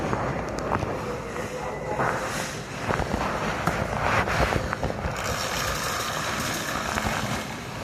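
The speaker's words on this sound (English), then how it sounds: "I guess that's his train." A train passes nearby with a continuous loud rumble and clatter, rising to sharper knocks and bangs midway, then settling into a steady roar.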